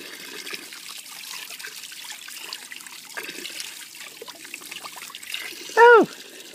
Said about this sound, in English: Lots of splashing.